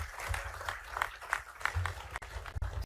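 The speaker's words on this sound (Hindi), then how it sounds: "जोरदार ताली बजा करके सभी इस पूरे आयोजन का आनंद ले" An audience applauds at an award ceremony in a hall, with quick, uneven claps that stay moderately faint and well back from the listener.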